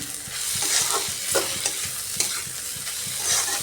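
Chopped ginger sizzles and fries with onions in a pan for a fish-head curry, a steady close crackle with spatula scrapes and stirring clatter throughout, no talk.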